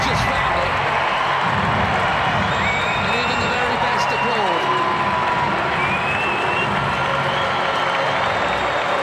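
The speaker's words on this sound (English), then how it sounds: "And even the very best applaud." A stadium crowd at a football match with Portugal players including João Felix and Cancelo applauds and cheers in a broad, continuous wash of noise, with commentary running over it throughout.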